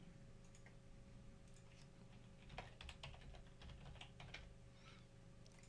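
A password is typed on a computer keyboard, with soft, quick key clicks in an irregular run that starts about halfway through, quiet against a low hum.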